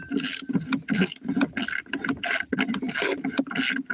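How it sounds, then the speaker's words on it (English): A ratchet wrench works a stubborn bolt out of a vehicle spindle during a repair, rapid close clicking in repeated bursts of pawl ratcheting with short pauses between strokes, no voices. "Just trying to get this last bolt out of here."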